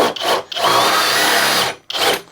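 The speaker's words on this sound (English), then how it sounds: "moving into the 1-inch spider auger bit in 3," Cordless drill boring through wood with a 1-inch spider auger bit, heard as a short burst, then one long, loud, grinding whir of over a second, then another brief burst, all close and with no voices.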